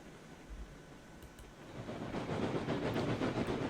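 Mastodon locomotive rolling along track in RailRoads Online, a steady rumbling rush that builds in loudness partway through with faint clicking over the rails, no voices.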